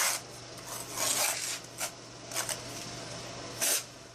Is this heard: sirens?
no